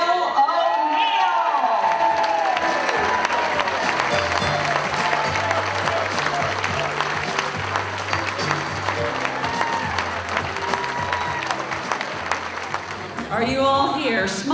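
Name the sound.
applause and cheering for the mayor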